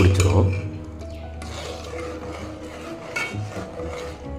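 Coconut milk payasam with vermicelli and sago being stirred in a pot, with a spoon scraping and clinking against the metal in short bursts, close up, while someone talks over it.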